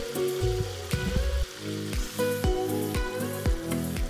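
Marinated shrimp frying in a batch in hot oil for Kerala-style shrimp pickle, a loud, steady sizzle and bubbling close to the microphone, with repeated soft stirring or scraping knocks throughout.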